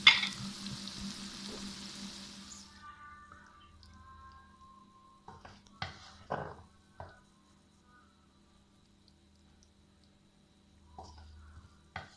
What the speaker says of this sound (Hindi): अब ये अच्छी तरह भून चुका है, फ्राई हो चुका है, ऑयल भी अलग होने लगा है